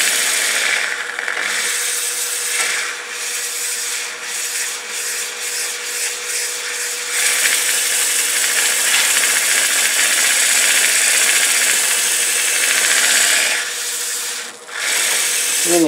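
A power sander works a wooden bowl at 600 grit with a continuous abrasive whir and rubbing hiss, rising and dipping slightly as it moves across the surface and briefly easing off near the end.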